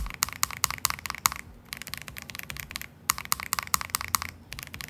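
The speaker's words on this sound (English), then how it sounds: "Compared to the KBD67 Lite, this board sounded deeper and poppier" Fast, even typing on an MW65 mechanical keyboard with KTT Mint switches, deep poppy keystrokes clacking in quick bursts separated by short pauses, close up with no talk.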